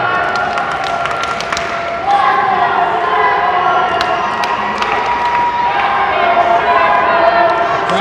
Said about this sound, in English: Crowd with a "Let's Go Schimmel" chant.